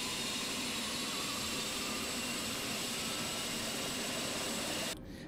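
A helicopter engine starts up in Microsoft Flight Simulator, a steady loud turbine whine and roar that holds evenly before dropping off sharply near the end.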